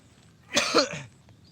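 One close cough splits into two quick bursts and trails off into a short rasp, loud and alone with no speech, from someone on a live stream at Gunung Silimin.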